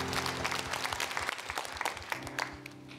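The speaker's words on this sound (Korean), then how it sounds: "다시 한번 감사의 박수 올려드립니다" Church congregation applauding during a Sunday worship service, a burst of many hands clapping with an uneven, crackling texture that stays steady for a few seconds.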